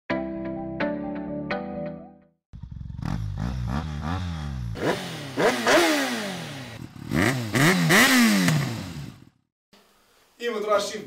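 A Sprint Pulser 125 supermoto motorcycle engine starts, then revs up and down repeatedly in rising and falling sweeps, loud and close, with a sharp clatter before it cuts out and fires again.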